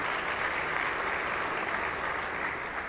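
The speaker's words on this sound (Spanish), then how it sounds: "Un aplauso para todos los organizadores" Steady applause from an audience at a round-table panel on social practices in the Mexican berry industry, honoring the organizers; a dense, even, moderately quiet wash of clapping with no break.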